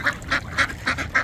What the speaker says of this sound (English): 360 degree dabble duck action